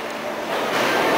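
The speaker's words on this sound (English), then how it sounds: "the 7 train is above us, so you might be hearing me speaking louder than a little bit normally." The 7 subway train rumbles along an elevated track overhead near Citi Field, a broad, loud roar that builds steadily as it passes, with no talk.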